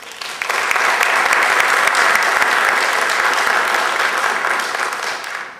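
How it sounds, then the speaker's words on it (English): Loud, steady applause from a seated audience at a hall of fame induction ceremony, many hands clapping together in a continuous dense roar that swells in quickly and holds to the end. "Give yourselves a round of applause."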